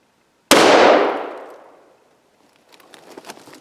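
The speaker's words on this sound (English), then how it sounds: "I'll be firing this hot shot out of my 454 Raging Bull." A single 454 Casull hot shot round fired from a Taurus Raging Bull revolver with a 6.5 inch barrel, a sharp, very loud, close blast that rings out and decays over about a second, followed by faint clicks and handling noise.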